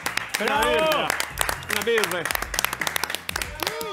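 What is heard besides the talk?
studio audience applauding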